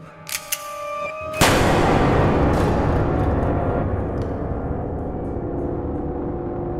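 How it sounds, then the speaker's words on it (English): Gunshot in the Android horror video game Forgotten Memories: two faint clicks, then a single loud, sharp blast followed by a long rumbling decay that fades slowly over several seconds. "a man pointing a gun at me and shooting me down"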